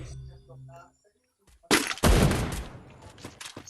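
Rapid bursts of gunfire from the Free Fire video game crack in loud, dense volleys right after a brief moment of a voice and near-silence.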